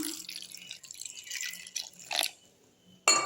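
Half a tumbler of water is poured over freshly grated sugarcane in a kitchen, a steady trickling splash that tapers off, then a sharp brief clatter near the end.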